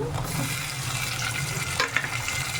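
Chopped onions with a little added tomato fry in a pan for a chicken curry, giving a continuous close-up crackle and hiss with soft scraping as the mixture is stirred.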